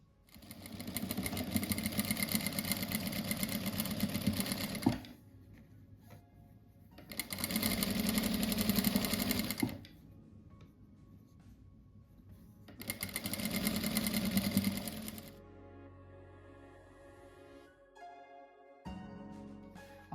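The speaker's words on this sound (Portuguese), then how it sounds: "agora eu vou fazer a costura no meio, assim, pra juntar" Sewing machine stitching patchwork fabric squares together down the middle, running in three loud bursts of steady rapid whirring separated by quiet pauses, with faint handling sounds between runs.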